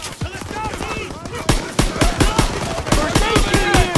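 Sustained gunfire in a Call of Duty WW2 firefight against SS troops at a factory: rapid bursts of loud, sharp shots in an irregular rhythm, building denser toward the end, mixed with other battle noise.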